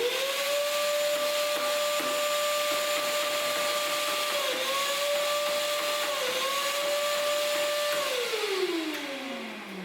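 A vacuum cleaner fitted with a floor-cleaning attachment runs at a steady loud whine, its pitch dipping briefly a couple of times before winding down at the end.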